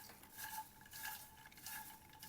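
Popcorn dusted with cinnamon is stirred in a bowl or pot. Soft, rhythmic scraping and rustling sweeps repeat about three times, close and fairly quiet, with no talking.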